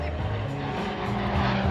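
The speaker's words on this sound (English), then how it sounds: "Here he comes from your right. Here he comes, bud. This is called our low fast pass." A Royal Air Force jet making a low fast pass at an airshow roars steadily overhead, a loud sustained rushing engine noise throughout.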